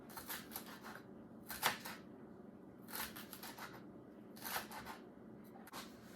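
A knife cuts celery into small pieces on a board, giving several separate short bursts of chopping a few seconds apart, close but fairly quiet.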